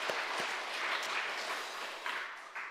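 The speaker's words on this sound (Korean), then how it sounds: "한번 박수로 한번 격려해 드리죠." Church congregation applauding in a dense, steady wash of clapping that holds evenly for a few seconds, moderately loud and free of talk.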